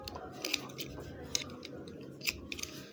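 Scissors snip through fabric to open a sewn buttonhole, several close, quiet crisp cuts in an uneven rhythm over faint background hiss.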